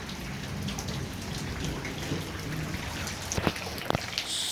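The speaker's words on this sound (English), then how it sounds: "Looks like it's raining even more." Rain falls steadily as a dense, even hiss, with a few sharper drips and splashes standing out near the end.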